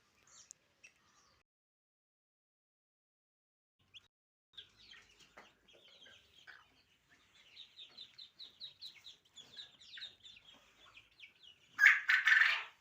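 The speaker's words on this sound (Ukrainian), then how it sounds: "Ось є одне гусенятко і двоє каченят під цією курочкою" A hen broods one gosling and two ducklings, giving soft clucks while the chicks peep in quick, busy chirps. The calls are near and fairly quiet, with a louder burst of peeping at the end.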